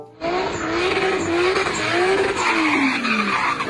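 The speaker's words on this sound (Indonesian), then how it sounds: "Mobil balap." A race car engine roars continuously with a high tire squeal sliding in pitch as it skids, loud and close, with no talking.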